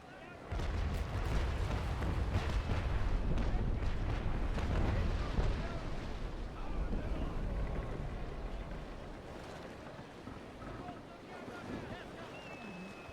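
A broadside of ship cannon fire in Naval Action rolls out as a long, deep rumbling barrage over wind and sea, then fades to a lower wash of water and wind while a voice speaks.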